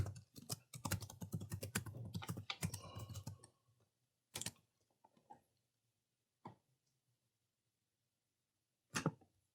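Rapid, irregular clacking of a computer keyboard as an email address is typed in, a dense burst of keystrokes followed by a few isolated key presses with pauses between, close and fairly quiet.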